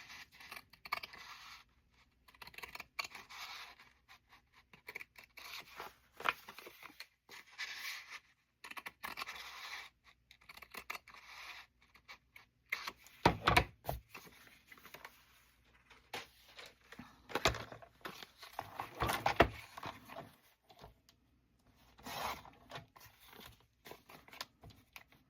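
Scissors trim a paper postcard for a Christmas journal, giving intermittent close snips and scraping rustles of paper in short bursts, with quiet handling between cuts.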